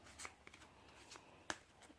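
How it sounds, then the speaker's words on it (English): A few crisp, papery riffles and light snaps of a tarot card deck being shuffled, quiet and close, with brief pauses between bursts. "let me shuffle these."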